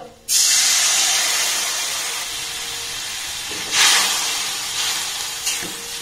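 A splash of water hits a hot pan holding ground coriander and cumin, bursting into a loud, close steam hiss that slowly eases, then flares twice more as the pan is stirred or shifted.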